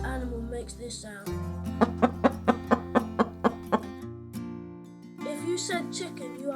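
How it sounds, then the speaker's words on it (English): Chicken clucking in a run of about eight sharp, evenly spaced clucks in the middle, set over steady background music in an animal sound quiz. "If you said chicken, you are correct."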